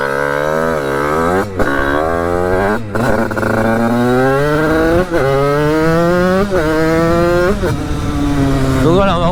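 Sherco EVO 4.0 trials motorcycle engine running close by, revving repeatedly in rising and falling surges over a steady idle, with brief sharp blips between, loud and continuous throughout.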